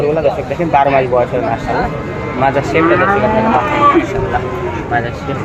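Holstein cattle moo repeatedly amid a noisy livestock market, with people talking throughout and a steady crowd hubbub.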